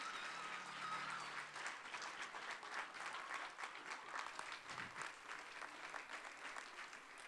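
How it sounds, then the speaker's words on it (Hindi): Sustained applause at a youth Christmas celebration in a church Sunday school, a dense, even patter of many hands clapping, quiet and somewhat distant, lasting the whole stretch. "भरपूर तालियां हमारी यूथ के लिए।"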